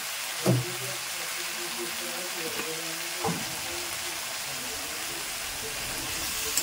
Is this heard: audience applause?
no